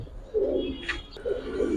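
Indian Nazra pigeons cooing nearby, two soft low throaty coos with a brief higher flutter between them, clear and close.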